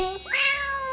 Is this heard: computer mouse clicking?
no